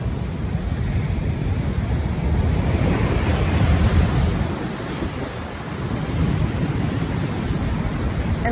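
Ocean surf rolls in at Kirra Beach, Queensland, a continuous heavy wash of breaking waves swelling and easing, with wind buffeting the microphone throughout.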